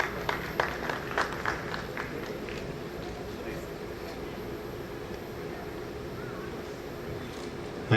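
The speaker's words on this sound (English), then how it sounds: "give him a round of applause" An audience at a university event, Bharat Gyan Samagam 2024 at COER University, claps in a dense, steady wash of applause that follows a brief stretch of voices at a hall microphone.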